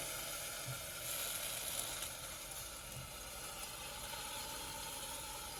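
Red sauce for pizza and pasta simmers in a pan and sizzles in a steady, soft hiss while being stirred, with faint scraping underneath.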